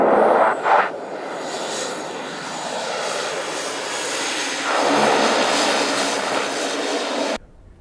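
A Learjet jet aircraft rolls down a runway on takeoff, a loud, steady engine roar that swells and builds over several seconds before cutting off abruptly, with no voices.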